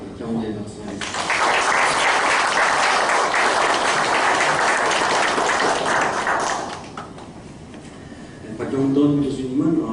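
A church congregation applauds a guest speaker, a loud sustained round of clapping that swells for several seconds and fades, with a voice speaking before and after.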